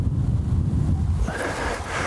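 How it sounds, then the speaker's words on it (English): Wind gusts across an open golf course, a steady low rumble buffeting the microphone that strengthens slightly partway through, with no voices. "Wind's just picked up a little bit actually."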